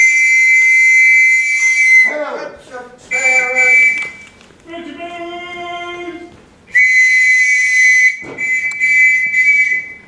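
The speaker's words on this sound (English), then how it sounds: "What are you blowing your whistle for, man?" A referee's whistle blown in a staged drama scene: several long, shrill, piercing blasts, loud and close, with shouting voices between them.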